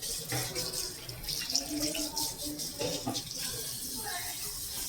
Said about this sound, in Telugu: హ్యాండ్ వాష్ చేసుకుంటున్నా చూసి